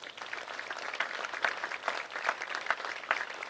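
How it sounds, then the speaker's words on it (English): An audience at a school education center dedication ceremony gives a round of applause, a dense, continuous wash of many hands clapping at once with a few sharper claps standing out, steady and fairly distant. "let's give him a round of applause as well"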